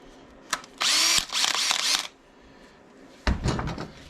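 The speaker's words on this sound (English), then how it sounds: "drill a hole in the center of it" A power drill drilling a center hole during Sportster motorcycle stator replacement whirs at high speed for about a second, stops, then another short mechanical rumble and clatter follow nearby.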